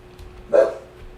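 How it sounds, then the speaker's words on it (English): A dog gives one short, loud bark, close and alone, with only faint background noise around it. "Dog."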